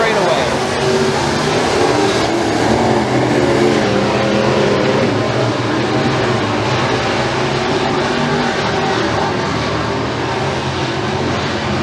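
Pro Mod race cars roar around the dirt track at McKean County Raceway during a heat race, a loud, unbroken engine drone with a commentator talking over it.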